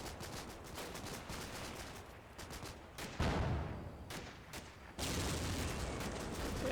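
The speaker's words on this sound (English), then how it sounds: "on map mortars are firing in support as well" Mortars fire in the World War II game Combat Mission: Battle for Normandy, heard as distant, muffled bursts and rumbling blasts that roll over one another at low volume.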